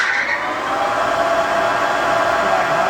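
A 33 by 120 inch Clausing Boravia engine lathe running at high speed, around 900 rpm, giving a steady, dense mechanical whir with a whining tone, close and even for a few seconds.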